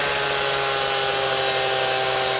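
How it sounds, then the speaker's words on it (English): Power tools carving plywood into sculpture, a loud continuous whirring grind with steady motor hum, unbroken and close, with no voices. "I love the sawdust flying. I love carving with the power tools."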